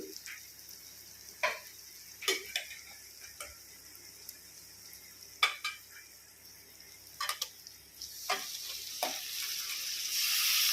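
Chicken pieces frying in a pan with ginger garlic paste, a steady sizzle rising toward the end, broken by scattered clinks and scrapes of a spoon stirring against the pan, close and fairly loud.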